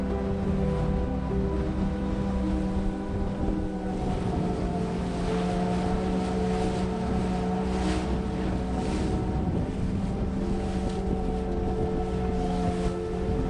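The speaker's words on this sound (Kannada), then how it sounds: "ಸ್ಪೀಡ್ ಬೋಟ್ ಹಿಡಿದು ಮ್ಯಾಂಗ್ರೋವ್ ಫಾರೆಸ್ಟ್ ಕ್ರೀಕ್" A speedboat motors through a mangrove forest creek at Baratang in the Andamans. Its engine drones steadily and loudly, with rushing wind buffeting the microphone throughout and no voices.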